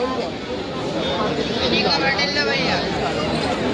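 A dense crowd of pilgrims at Shri Kal Bhairav temple in Ujjain produces a steady, close babble of many overlapping voices, a continuous loud hubbub with no single voice standing out.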